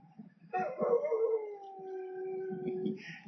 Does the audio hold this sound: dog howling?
yes